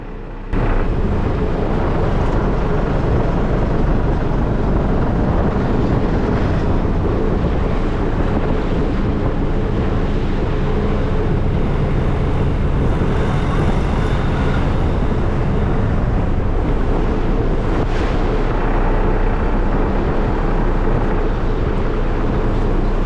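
Longtail boat motoring along the Chao Phraya River in Bangkok, Thailand, its loud engine drone steady and close throughout, mixed with rushing water and heavy wind buffeting the microphone.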